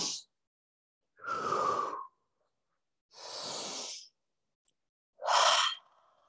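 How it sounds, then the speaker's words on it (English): Slow, deep breaths during a yoga flow: four separate long exhales or sighs, spaced about a second apart, close and soft, with silence between them and no talking. "Taking about 3 more rounds of breath here"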